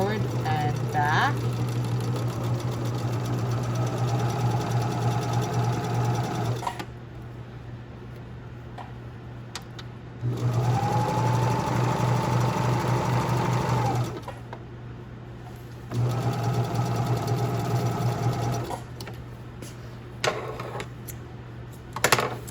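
A sewing machine stitches the inseam of an 18-inch doll's leg, running in three sustained bursts with a steady motor hum and rapid needle chatter, separated by quieter pauses where a voice talks.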